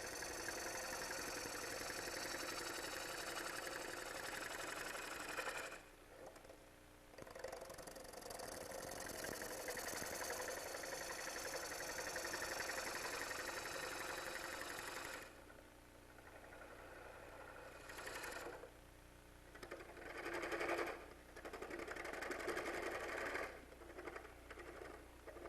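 A wood lathe turns a heart-shaped bowl with slow, controlled cuts, giving a steady, quiet whirring hum with scraping tool noise that drops away briefly twice, with no speech.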